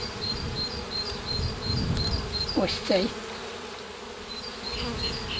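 Honey bees hum around an alpine-style hive as the boxes are lifted and restacked, a steady insect drone throughout with a brief spoken remark and some handling noise midway.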